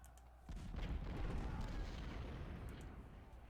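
Artillery booms from a Civil War battle at Fredericksburg in the strategy game Ultimate General Civil War, a dense rolling barrage that rises suddenly and rumbles on continuously with overlapping low blasts.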